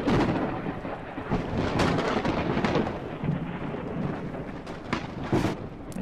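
Heavy rain and rolling thunder in Ark Survival, the Scorched Earth map: a dense steady downpour with deep rumbles swelling and fading throughout, loud and close.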